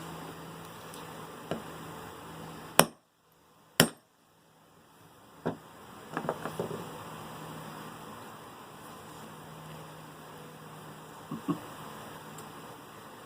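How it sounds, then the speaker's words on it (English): Sharp metallic strikes of a hammer on a punch driving out a worn wheelchair wheel bearing ring out over steady background hum, a few loud isolated hits followed by several lighter taps spread across the clip. "That's where the hammer comes in."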